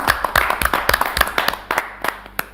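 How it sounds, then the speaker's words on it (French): Scattered, uneven clapping at an Algerian award ceremony for a fake-news prize, a handful of distinct claps in an irregular rhythm, fairly close and moderately loud. "applaudissements."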